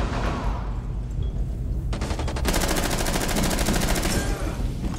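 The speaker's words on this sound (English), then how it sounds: "I'm shooting at it right now." Rapid automatic gunfire in Rainbow Six Siege plays as loud, dense bursts of shots. Steady game noise runs underneath, and a quick sharp burst is followed by a longer sustained volley.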